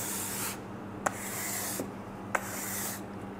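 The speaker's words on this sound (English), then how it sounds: "using the provided ice scraper and scraping any excessive ice buildup" A plastic ice scraper rasps against built-up frost on an ultra-low laboratory freezer, giving long steady scraping strokes with a few brief knocks between them, close and moderately loud.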